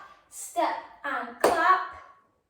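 During a street dance lesson, a single sharp hand clap lands among a few spoken instructional words from a nearby instructor in an otherwise quiet room.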